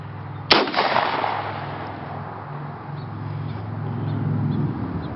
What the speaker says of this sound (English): This is a 12 gauge Browning shotgun.